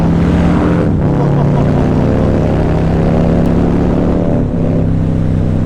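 A 2020 Harley-Davidson Fat Boy motorcycle engine rumbles loud and close, its deep steady drone swelling into a few revs before settling back, with no talking.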